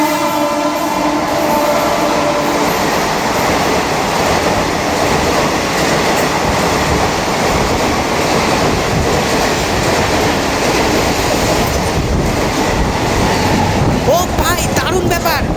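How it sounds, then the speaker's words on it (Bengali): A TOD special train hauled by a liveried WG9AC electric locomotive passes Birnagar station at night, a loud, continuous rumble with rhythmic wheel clatter filling the whole stretch and a voice faintly under it. "আরেকটি টিওডি স্পেশাল ট্রেন, আর সেটিও এখন স্কিপ করতে চলেছে বীরনগর"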